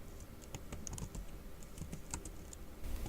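Quick, light clicking of typing on a computer keyboard while entering commands in a terminal, a close, faint patter of keystrokes in steady bursts.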